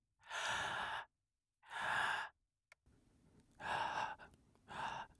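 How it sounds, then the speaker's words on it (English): Breath inhalations picked up by a microphone with noise reduction, several separate airy intakes in sequence, close and clear, with near silence between them. "Now listen when I inhale."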